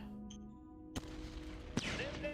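Sharp bursts of gunfire from units attacking in the strategy game Shadow Empire, with two distinct cracks over a steady background music bed.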